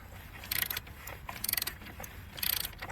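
A ratchet on a universal swivel turns a bolt on a VW Jetta oil cooler and gives three quick bursts of fast clicking at close range, with quieter fiddling sounds between them.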